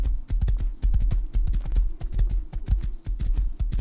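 Horse hooves in the video game Rust, a rapid, close clip-clop of galloping strikes thudding in steady rhythm throughout.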